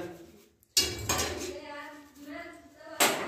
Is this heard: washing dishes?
yes